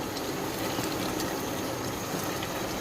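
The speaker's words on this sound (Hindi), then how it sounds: "ये देखिए हमारी भुनाई हो रही है।" Mash daal gosht meat frying (bhuna) over high heat in a handi, with the oil starting to rise, gives a loud, steady, close sizzle that holds without a break and has no talk over it.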